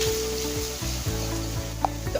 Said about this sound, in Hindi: तो अब हम यहाँ अदरक लहसुन का पेस्ट ऐड करेंगे 3 से 4 टेबल स्पून और डाल के थोड़ी देर हम इसको भून लेंगे।